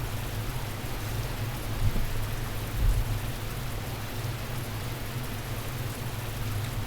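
Steady rain pours in a visual novel scene, a dense even hiss with low rumbling undertones and a couple of slightly heavier gusts, with no voices.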